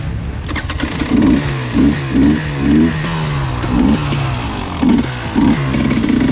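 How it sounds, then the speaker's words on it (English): A 2021 KTM 300 XCW TPI fuel-injected two-stroke dirt bike, still warming up on a winter sand ride, revs in a string of short, sharp throttle blips over a steady idle, loud and close with no talking. "the fuel injection bikes do take some time to warm up"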